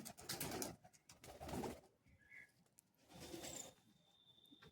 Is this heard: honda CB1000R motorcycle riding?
no